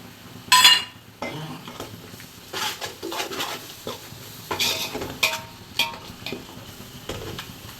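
A spoon clinking and scraping in a pan as chicken biryani masala with biryani powder is sautéed, with irregular metallic taps and stirring scrapes over a faint sizzle, close and moderately quiet, no talk.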